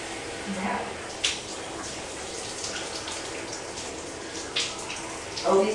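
Shower water runs steadily as a soft, continuous hiss, with a few brief knocks and splashes and a louder burst of spatter near the end.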